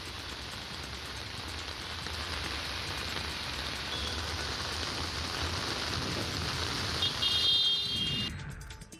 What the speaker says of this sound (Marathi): मावळमध्ये मेघगर्जनेसह पाऊस बरसलाय।